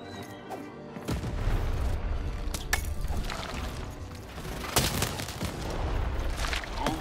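Cannon fire in the video game Lost in Random: booming blasts and crashing impacts with mechanical clatter, loud and dense throughout, with a sharp burst near the end.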